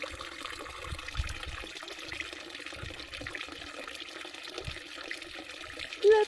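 Fresh spring water flows and trickles at its source in a soft, steady burble, fairly faint and close, with a brief louder splash at the end.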